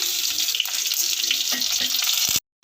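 Coriander, cumin, fennel and dried chilli fry in hot oil for fish curry, a steady close crackling hiss that fills the whole moment and then cuts off abruptly.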